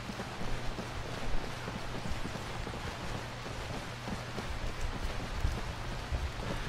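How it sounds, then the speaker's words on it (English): Steady rain in Skyrim hisses evenly across the whole stretch, with a low hum beneath and occasional soft thumps. "Yeah, and it's raining."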